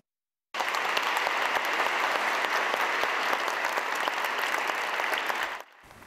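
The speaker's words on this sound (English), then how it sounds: "Parishioners applauded for officers and firefighters at St. Stanislaus Kostka Catholic Church." Parishioners clap steadily for Chicago police officers and firefighters inside St. Stanislaus Kostka Catholic Church during a Blue Mass, a dense, sustained round of applause that begins abruptly after a brief silence and fades away at the end.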